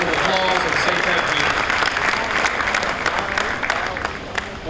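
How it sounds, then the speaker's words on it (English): A crowd at the 2015 Williamson County Fair claps steadily in dense, loud applause, a continuous wash of hand claps that holds throughout without letting up. "give them a big Williamson County high five and a round of applause"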